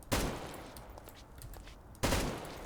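Two loud gunshots from an ArcCW customizable weapon in Garry's Mod, sharp bursts roughly two seconds apart, each followed by a decaying echo tail, alone without speech.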